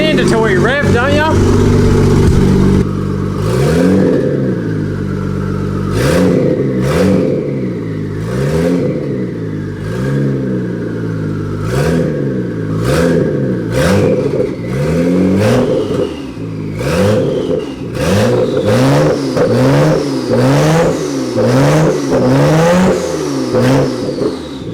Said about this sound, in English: Mandatory rev, don't ya?